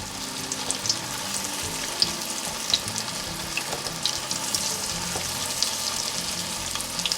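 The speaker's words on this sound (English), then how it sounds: "it says you want to fry them until they get golden brown" Sweet potato croquettes fry in hot oil as they turn golden brown, a dense, continuous crackling sizzle with small bright pops scattered throughout, steady and close by.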